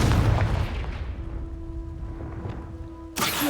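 A Confringo explosion spell in Hogwarts Legacy bursts loudly at the start and decays into a long ringing hum, then a second sharp blast cuts in near the end.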